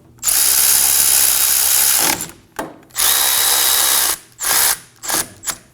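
A power tool snugs up the rear brake bracket bolts on a 2017-2024 Nissan Armada, running in loud, close bursts: two long whirring pulls followed by three short ratcheting blips.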